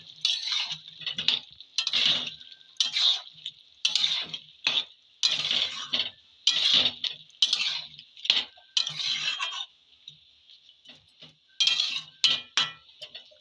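A beef and potato curry is stirred in a metal pot, a spoon scraping and clinking in a steady run of close strokes with a brief pause before the stirring resumes, no talk.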